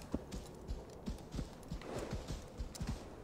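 A horse's hooves in Assassin's Creed: Valhalla clip-clop in a steady walking rhythm, moderately close and fairly quiet, over soft ambient outdoor sound.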